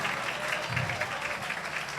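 A church congregation at an Urdu sermon claps together in a steady, moderately distant patter with a voice faintly underneath.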